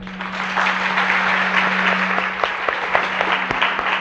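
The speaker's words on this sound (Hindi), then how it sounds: "तालियां।" An audience at a spiritual discourse session claps, a loud, fairly dense burst of applause that holds steady and thins toward the end, over a faint steady hum.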